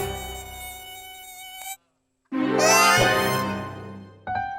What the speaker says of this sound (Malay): Nyamuk Aedes!